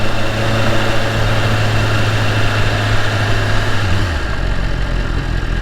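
A Dodge Hellcat's engine rumbles loudly and steadily at close range, a deep continuous drone that shifts slightly in pitch near the end.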